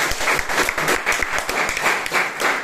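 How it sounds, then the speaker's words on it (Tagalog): Audience applause fills a Filipino balagtasan poetic debate hall as two debaters are welcomed, a dense, steady wash of many hands clapping close and loud for the full stretch, no voices on top. "Ang hiling ko'y salubungin ng palakpak ang dalawa."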